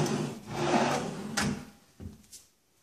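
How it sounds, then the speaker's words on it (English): A soft-close kitchen drawer in new cabinetry slides shut with a smooth rolling rumble, then a gentle damped thump and a light knock as it settles, close by and without talking. "all new cabinets, soft closed drawers."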